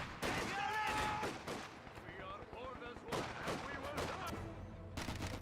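Machine gun fire in the video game Company of Heroes 2, with rapid rattling bursts and sharp shots in clusters, a brief tonal whine early on, and voices from the game mixed in.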